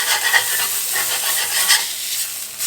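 A hamburger patty sizzles loudly in a hot pan while a spatula scrapes beneath it, a continuous close crackling hiss with small scraping bursts and no talk.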